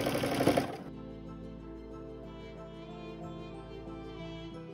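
Sewing machine stitching a quilted triangle table runner, running at a steady, even hum with fine rhythmic needle ticking after a short louder burst at the start, close and uninterrupted.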